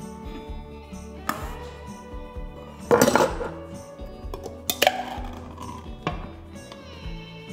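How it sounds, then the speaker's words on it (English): Canned corn kernels are moved into a mixing bowl with a utensil, making a few sharp clinks and scrapes against the bowl around the middle over a faint background hum, close by and without talking. "Begin by transferring the corn kernels to a mixing bowl."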